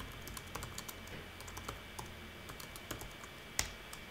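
Steady run of light, quick clicks from a computer keyboard as a blog post is typed out, with a few sharper key strikes standing out, close and fairly quiet in a still room.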